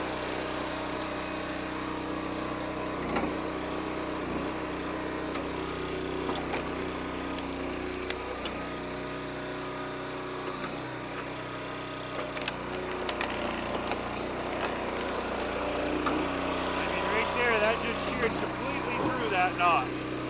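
A commercial log splitter drives its wedge through a knotted birch log, giving crackling, splintering wood over a constant engine drone while people talk.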